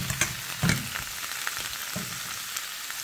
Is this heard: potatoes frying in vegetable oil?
yes